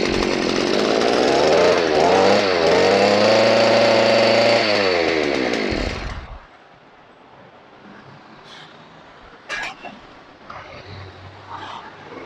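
A gasoline earth auger engine roars loud and close, its pitch rising and falling as it revs, then cuts off abruptly, leaving quiet outdoor background with faint scattered sounds.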